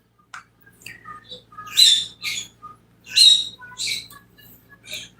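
Pet birds squawk close by in repeated harsh bursts, mixed with scattered short chirps and squeaks.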